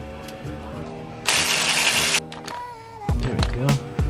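A car engine cranks with a steady whirring starter, falls quiet, then catches and fires up with a few revving bursts after a wiring repair, close by.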